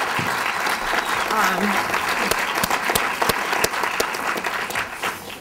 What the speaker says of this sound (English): So I think we can hear a round of applause for that